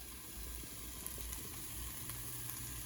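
Cumin tips into a hot pot for red lentil soup and starts sizzling, a faint, steady hiss with small crackles and pops and no voices.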